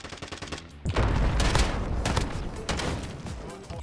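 Shotgun gunfire in the video game Call of Duty: Modern Warfare, a series of heavy, booming blasts in close succession with dense layered shots and in-game action noise.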